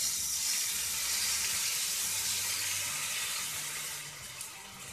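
Water poured into a hot cooking pan hisses and sizzles in a steady, bright rush that holds for several seconds, then eases off slightly near the end.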